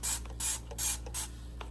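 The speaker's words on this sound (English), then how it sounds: "I just use this Dawn Power Wash, and I spray the cups" Four quick hissing pumps from a Dawn Power Wash dish soap spray bottle misting cups, each burst short and close, with soft trigger clicks between and no talking.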